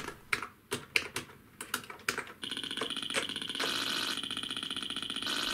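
Keys clack on a retro ZX Spectrum computer keyboard in a handful of separate, crisp presses, then give way to a steady, high electronic tone with rapid faint ticking beneath.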